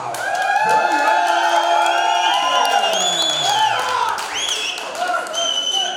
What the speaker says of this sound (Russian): Встречаем бурными аплодисментами Нурматов!